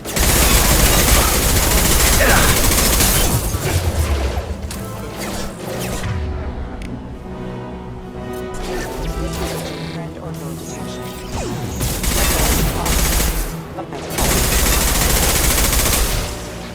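Loud bursts of automatic gunfire and crashing impacts during combat in the sci-fi video game Mass Effect 2, heavy volleys at the start and end with sparser shots and mechanical clatter between, voices calling out amid the fighting.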